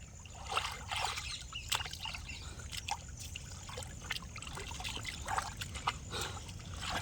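Water splashes and trickles as someone swims in a village pond, with irregular close splashes and drips over a steady outdoor water background and no talk.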